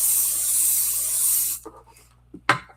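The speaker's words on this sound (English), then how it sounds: "Going for the pixie spray." Pixie spray misted onto a craft stencil in one sustained, close, loud hissing burst lasting about a second and a half, followed by quieter handling knocks and a sharp tap.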